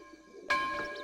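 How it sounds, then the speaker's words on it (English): A church bell in Hitman 2: Silent Assassin strikes once with a sharp clang, then rings on with a sustained, shimmering tone that slowly fades, alone against a quiet background. "So when this bell rings, it says maybe it's time to go to the confession"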